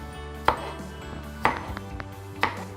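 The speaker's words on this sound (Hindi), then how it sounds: "लाल मूलियां, इनको भी बारीक बारीक चॉप करूंगी, काट लूंगी बारीक बारीक" Knife chopping red radishes finely on a board for an aloo chana chickpea chaat, three separate sharp cuts spaced about a second apart, close and fairly loud with no talking.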